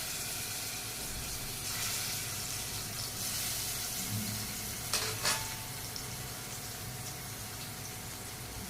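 Vegetables frying in hot oil, a continuous soft hiss and sizzle at low level with a couple of brief louder scraping or stirring noises midway.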